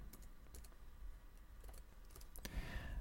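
Faint, quick keystrokes on a computer keyboard as text is typed, light scattered clicks in a quiet room with no talking.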